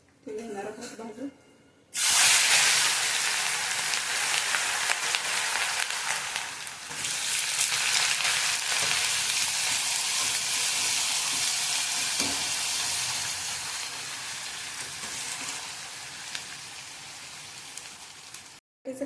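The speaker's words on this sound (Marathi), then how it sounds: "आता बटाट्याचा जो खिस आपण घेतला होता ना खिसून, ते घेणार आहोत भाजून" Grated potato fries in hot oil, a loud, steady, rain-like sizzle that bursts in suddenly after a quiet start and then continues, easing slightly toward the end.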